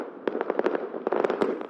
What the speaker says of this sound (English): Here, fireworks were let off from secret locations, so people wouldn't be tempted to gather outside.